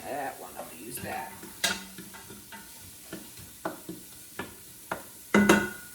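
Shrimp sauteing in a pan for a coconut sauce dish, with a spoon stirring and scraping against the pan in repeated short knocks over a low sizzle, plus one louder clatter near the end.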